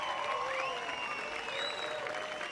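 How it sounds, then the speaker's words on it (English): A canned applause sound effect played during a live travel network sales broadcast, steady dense clapping and crowd cheer at an even level throughout, with whistle-like tones threading over it. "The one thing about my applause sound effect is it goes pretty long"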